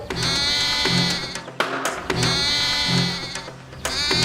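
A goat bleats loudly and insistently, a series of long, wavering cries close by with brief gaps between them.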